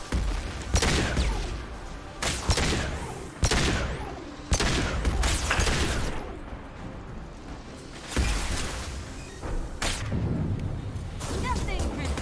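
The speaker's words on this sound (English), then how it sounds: "Protocol 4, deploy suppressive fire." Suppressive gunfire in the Space Koboy video game, with loud bursts of shooting and heavy blasts repeating every second or two and a voice speaking between the volleys.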